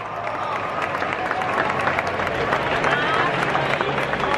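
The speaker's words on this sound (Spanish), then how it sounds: "Jerome Flynn, un fuerte aplauso" Comic-Con Madrid audience applauding actor Jerome Flynn as he is introduced, a dense, steady wash of clapping from a large crowd lasting throughout.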